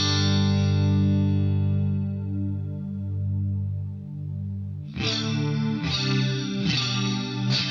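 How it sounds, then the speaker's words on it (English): An electric guitar runs through a harmonizer effect pedal with a compressor. A long, shimmering sustained chord fades out, then is followed by several bright, struck chords with layered pitch-shifted harmonies, with no talk. "listen to all that harmonizer"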